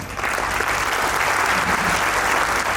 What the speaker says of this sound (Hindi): ऐसी माताओं के लिए अब हम ताली बजाएं